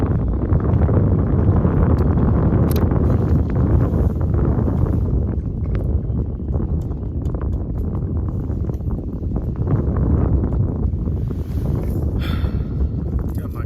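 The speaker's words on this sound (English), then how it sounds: "It's pretty windy today." Strong wind roars and buffets the microphone continuously while fishing outdoors, a loud broadband rush with gusts rising and falling, no other clear sounds.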